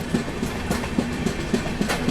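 Jan Shatabdi Express from Vijayawada to Chennai Central accelerating on its main line departure, loud rhythmic clickety-clack of wheels over rail joints repeating evenly throughout, heard from on board.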